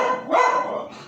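A dog barks at a person walking down the street, giving a short burst of loud, close yapping barks that run together, with no talk over them.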